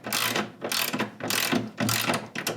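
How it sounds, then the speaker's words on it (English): A ratchet wrench loosens bolts on a motorcycle, fast rattling clicks in four or five bursts, close and loud, with no talk. "Here, I'm gonna undo these bolts, and hopefully somebody didn't over tighten them."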